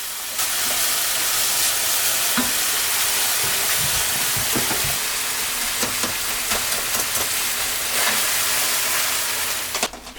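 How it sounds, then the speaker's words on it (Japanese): Minced meat for a bolognese sauce stir-fries on high heat, giving a loud, steady, hissing sizzle that fills the whole stretch, with occasional spatula clicks and scrapes, close up and without speech. "ここは強火で炒め、余分な脂肪分をあぶり出してしまいます。"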